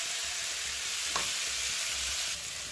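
Garlic and ground coriander sizzle steadily in hot oil in a pan, a continuous close frying hiss with faint stirring scrapes and no voices.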